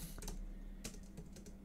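Quiet, irregular clicks of a computer keyboard as a console command is typed, a few scattered keystrokes close by with no voices.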